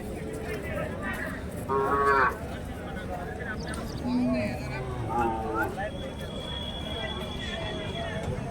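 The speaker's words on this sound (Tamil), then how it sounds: "ஸோ இது வந்து ஜோடி கன்று போல்." Calves at a busy Friday cattle and bull market in Krishnagiri district moo in several short, fairly close calls, heard over a constant crowd murmur with people talking nearby.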